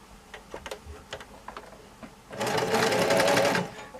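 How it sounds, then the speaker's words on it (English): A sewing machine stitches a quilted bag: a few soft isolated taps and clicks at first, then a dense, rapid mechanical run of stitching for over a second, close and clear. "a few stitches, make sure your needle's down"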